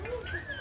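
A bird calls at Guwahati zoo with a brief rising, whistly note. Background noise and a voice are faintly present.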